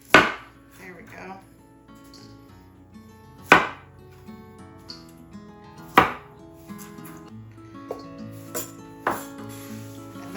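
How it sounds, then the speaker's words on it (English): A knife chops through food on a board for a sheet pan dinner, a handful of sharp, separate thuds spaced a few seconds apart, close and clear, with quiet clinks between. "I'm just going to cut them in like, it doesn't matter to me how they fall apart."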